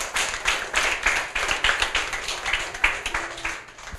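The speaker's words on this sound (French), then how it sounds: "on remercie Andréane et Emmanuel, on les applaudit très très fort." Audience at a French book-presentation event applauding two presenters, steady clapping from many hands filling the clip, moderately loud and fairly close, fading slightly at the end.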